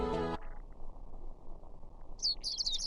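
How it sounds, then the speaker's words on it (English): Birds chirping in the visual novel Code Realize, a few quick bright tweets arriving late after a brief voice and a quiet low hum. "The sounds of birds chirping slowly raises me from my dreams into consciousness."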